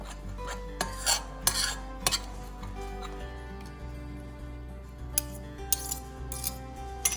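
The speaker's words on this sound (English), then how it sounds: "I'm gonna stir this up to make sure that the baking powder is mixed in well with my all-purpose flour." A utensil stirs baking powder into all-purpose flour in a bowl for chicken and dumplings, with irregular close clinks and scrapes against the bowl over a low steady hum.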